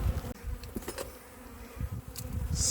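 A small swarm of honey bees buzzes loudly and close at a hive near an apiary, a dense continuous drone with individual bees zipping past.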